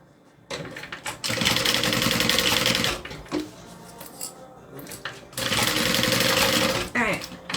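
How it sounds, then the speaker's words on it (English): A sewing machine stitches backpack fabric in two long loud whirring runs, close by, with a brief pause and softer handling noises between them. A voice speaks briefly. "Then I'm just going to stitch them in place."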